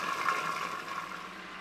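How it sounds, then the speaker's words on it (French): A food processor (cutter) whirs at high speed while milk is poured in, giving a steady, close, watery churning rush for under two seconds during camembert-style cheese preparation, with no voices. "je vais donc allumer le cutter en vitesse rapide et y incorporer progressivement le lait"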